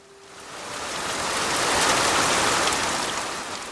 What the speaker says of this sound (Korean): 갑자기 빗방울이 흩뿌리는가 싶더니 굵은 장대비가 쏟아지기 시작했어요